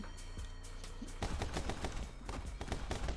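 Rapid gunfire from a gun in the video game My Friend Pedro, a fast stream of crisp shots, sparse at first then dense and sustained, with no talk over it.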